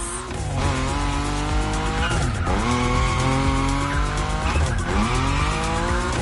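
Car in The Crew Motorfest drifting, tires squealing in long wavering streaks over a steady loud engine roar, with brief breaks between slides.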